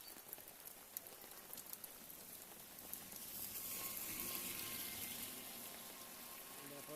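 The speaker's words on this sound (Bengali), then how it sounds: "সকাল 11টা থেকে বৃষ্টি চালু হয়েছে, এখন অবধি বৃষ্টি ছাড়েনি" Continuous rain falling in a waterlogged street, a soft steady hiss of drops on surfaces that swells slightly louder midway and keeps going without a break.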